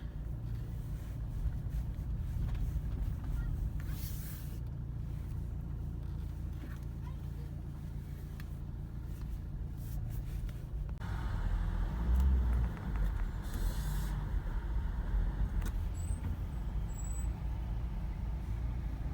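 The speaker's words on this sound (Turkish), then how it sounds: "Trafikle boğuşuyoruz." Road traffic heard from inside an eight-year-old Ford Connect with about 100,000 km on it, a continuous low engine and tyre rumble with passing vehicles and a brief louder surge midway; faint talk sits beneath it.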